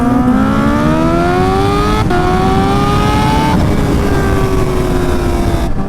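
A Kawasaki Ninja H2 motorcycle revs and accelerates hard, its engine note climbing through gears in loud, close, continuous sweeps with brief shift breaks.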